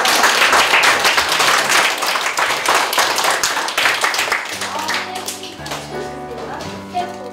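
Loud, dense clapping from a small group thanking the hosts at a rural youth-run restaurant event, a steady burst of hands that fades slightly as a soft sustained music chord enters near the end.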